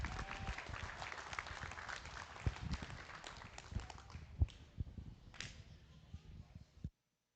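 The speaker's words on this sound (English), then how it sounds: "One more round of applause, if you would, for these young people." Audience applause rings out at a junior livestock show after FFA and 4-H market lamb classes, a steady dense clapping for several seconds with scattered louder claps and a brief shout before it stops abruptly.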